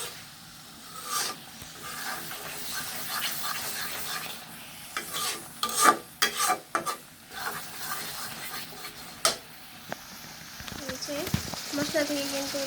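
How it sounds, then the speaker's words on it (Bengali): Spoon stirring and scraping spices with chopped green chillies in a hot oiled pan while cooking desi rooster curry, a steady close rasping with a light sizzle and occasional sharper knocks against the pan. "দিয়ে ভালোভাবে নেড়ে চেড়ে মিশিয়ে নেব।"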